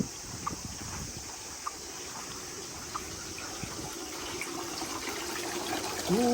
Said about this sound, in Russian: Тут вода бежит.